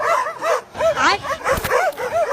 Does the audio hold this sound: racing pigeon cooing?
no